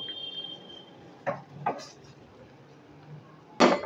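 A pot of boiled water is lifted off the stove in a home kitchen while cooking pulao, making a few sharp metallic clanks and knocks spaced apart over quiet room tone.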